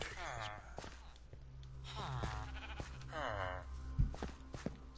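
Sheep in the Minecraft video game bleat three times in a row, clear and fairly close, with a soft footstep thump near the end and someone talking intermittently.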